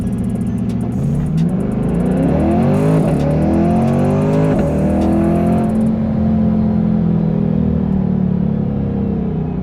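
A Liberty Walk Corvette accelerates hard in a speed test, its engine note climbing through several rising sweeps as it shifts up. The sound is loud and close, then settles into a steady high roar.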